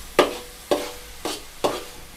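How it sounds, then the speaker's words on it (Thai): Pink rice noodles stir-fried in a large wok, four regular spatula scrapes and tosses with soft sizzling between them, close and fairly quiet. "ผัดให้แห้งเลยนะครับ"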